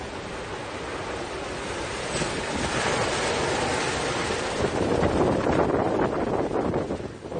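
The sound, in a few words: typhoon waves crashing over seawall in recorded video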